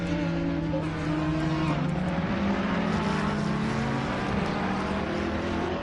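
Race cars at Donington Park, including the number 52 Ferrari, droning steadily with layered engine tones throughout, loud and continuous as several cars run together on track.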